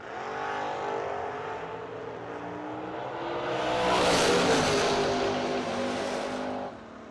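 A Firebird race car at the Million Dollar Race drag event idles with a loud, throbbing engine drone that swells into a louder roaring rev near the middle, then settles and cuts off.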